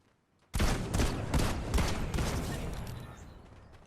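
Frenzy shotgun in Fortnite firing about five rapid, loud blasts in quick succession, each sharp report trailing into a decaying echo, heard alone with no talk.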